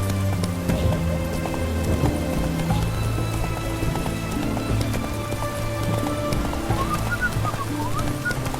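A horse gallops at a steady clip-clop in The Witcher 3, with hooves pounding rhythmically over constant rain-like ambience and game background sound. No one speaks.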